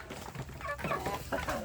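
Free-range village chickens and young chicks cluck in a close, busy run of overlapping calls, with soft chirps and short clucks repeating without pause.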